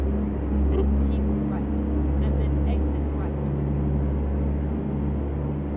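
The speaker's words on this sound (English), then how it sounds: "this sounds like default engine sounds to me" Simulated Kenworth W900 long-hood truck engine from American Truck Simulator, hauling cattle, holds a steady low drone throughout under a faint broadband wash, with a voice talking over it.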